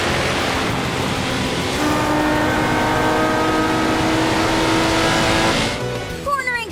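A car with a newly fitted engine drones loudly and steadily as it accelerates through a corner, its rising engine tone continuous and close before easing off near the end.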